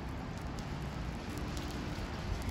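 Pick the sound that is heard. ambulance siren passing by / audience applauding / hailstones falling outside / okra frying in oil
hailstones falling outside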